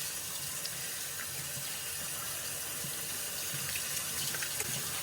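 Tap water runs steadily over greasy, motor-oil-stained hands being rinsed at a sink, a constant close splashing wash with no pauses.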